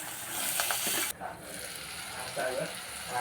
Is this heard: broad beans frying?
yes